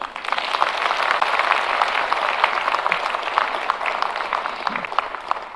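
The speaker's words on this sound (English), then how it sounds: "just so that maybe you can clap for them" A crowd claps for housing corporation board members at a celebration event, a sustained, dense round of applause with sharp individual claps poking through, steady and loud from start to finish.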